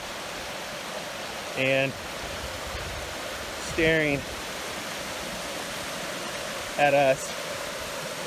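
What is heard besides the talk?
waterfall rushing on a Yosemite trail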